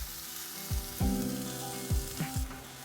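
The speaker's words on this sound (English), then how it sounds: "Saute for 2 to 3 minutes." Garlic, ginger and green onions sauté in avocado oil in a non-stick pan over medium heat, giving a soft, low sizzle punctuated by a few distinct thuds and scrapes from stirring.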